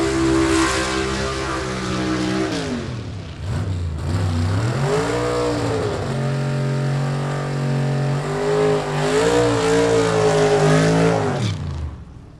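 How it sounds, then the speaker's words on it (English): Gasser drag race cars, including a 1967 Chevelle, launch and roar down the track at a Southeast Gassers Association event, loud engines rising through gear changes, a brief dip, then another hard run fading out. "He's going to go down the track alongside of Chase Howard in his 67 Chevelle"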